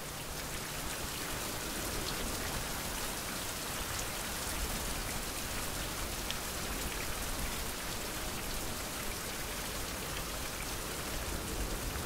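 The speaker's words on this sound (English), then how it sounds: "Oh, I wish this rain would stop." Steady heavy rain falls on an island in a survival video game, a dense, even hiss that continues without a break and with no voices.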